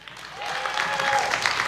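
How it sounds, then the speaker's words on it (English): Comic con audience applauding the MC Lewis, a brief swell of clapping and a few cheers from a crowd in a large hall, rising and holding steady. "Give a big round of applause for our MC"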